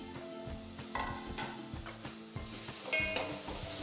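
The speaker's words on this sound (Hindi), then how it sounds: "लौकी को 5 से 10 मिनट भूनेंगे।" Bottle gourd frying and being stirred in hot ghee for lauki kheer, a steady close sizzle with scraping stir strokes and a brief clink of the pan near the end.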